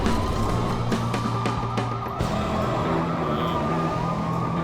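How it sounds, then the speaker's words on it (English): A police car siren wails in the LEGO City Undercover video game on the Nintendo Switch. The electronic siren tone is loud and continuous throughout, with game engine noise beneath it. "There's a police car."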